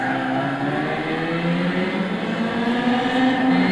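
A Mazda RX-7 Savanna Infini 1.3 turbo rotary in Gran Turismo 6 revs high and steady with a buzzing, swarm-like drone. It holds close and loud for several seconds, with no voices.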